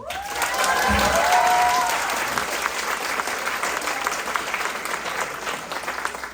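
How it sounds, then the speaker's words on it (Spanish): An audience at a university forum claps to welcome teachers, a sustained wash of applause rising and then holding steady, with a faint voice near the start. "Un fuerte aplauso, por favor."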